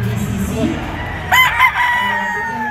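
A Boston Roundhead gamefowl rooster crows once at a gamefowl expo, a clear rising-then-falling call about a second and a half long, standing out above steady crowd murmur and clucking.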